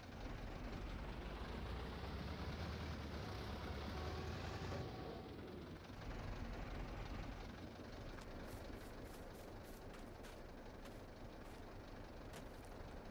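A tractor engine in the farming game Farming Simulator 22 runs as a continuous low, broadband drone, steady and faint, with no voices over it.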